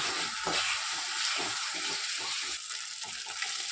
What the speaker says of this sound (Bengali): এই যে আমার মশলা কষানো হয়ে গিয়েছে এই যে তেল ছাড়ছে